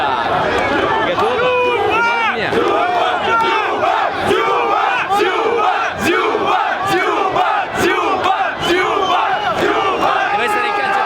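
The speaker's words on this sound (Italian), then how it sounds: "Attenzione, la folla si scalda." A large football stadium crowd at a Russia versus Spain match roars and chants loudly and continuously, many voices rising and falling together in dense, sustained waves close to the listener.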